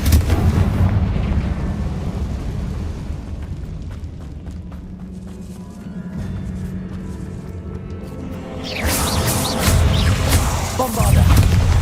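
Confringo blasting spell explosions in the Hogwarts Legacy video game, a dense, loud run of booming blasts and crashing debris that swells again toward the end, with game noise layered over the top.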